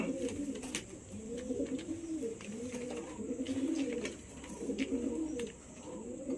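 A pigeon coos nearby in low, throaty, repeated phrases that roll on almost without pause, with faint rustling in the background.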